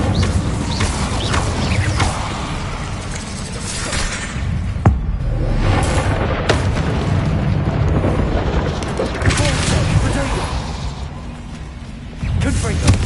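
Spell-casting effects from Hogwarts Legacy, a string of booming magical blasts, crashes and whooshes layered over continuous game music and rumble, with sharp impacts recurring every few seconds.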